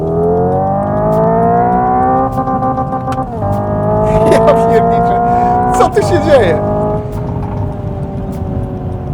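Loud synthetic engine tone from a Hyundai IONIQ 5 N electric car, rising and holding in pitch like revving, with a brief tire-like screech midway and someone speaking over it.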